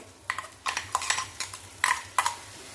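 A spoon scrapes and clinks in a pan as green chili paste is stirred and roasted in oil, about eight short, fairly close strokes at an uneven rhythm with a faint low hiss beneath.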